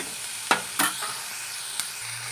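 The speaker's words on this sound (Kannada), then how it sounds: "ನಾನು ಇವಾಗ ಒಂದರಿಂದ ಎರಡು ನಿಮಿಷ ಫ್ರೈ ಮಾಡ್ತೀನಿ" Masala frying in hot oil for a restaurant-style mushroom gravy, a soft steady sizzle broken by a few sharp stirring scrapes and clinks of a spoon against the pan, close and quiet with no talking.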